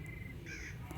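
A crow caws in the horror video game Granny Chapter 3: a short, raspy caw, close and distinct, heard alone over a low rumbling game ambience.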